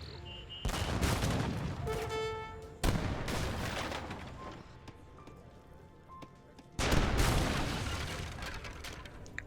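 Dense volleys of musket and cannon fire in an Age of Empires III battle, with repeated crackling bursts and booms that swell, fade and restart several times, loud and without speech.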